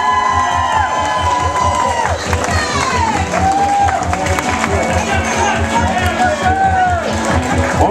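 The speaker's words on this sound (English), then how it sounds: "Give her a nice big round of applause." Wedding guests at a reception at a Marshfield, Massachusetts restaurant applaud and cheer loudly and steadily, with shouts and crowd babble mixed through the sustained clapping.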